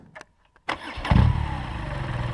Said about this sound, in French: quand tu démarres la moto, regarde le mouvement qu'elle fait